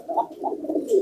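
Pigeons coo inside a cage in a few soft, rolling bursts, close and moderately loud, with a brief rustle at the end.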